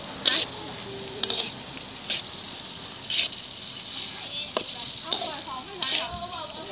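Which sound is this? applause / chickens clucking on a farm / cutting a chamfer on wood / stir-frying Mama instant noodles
stir-frying Mama instant noodles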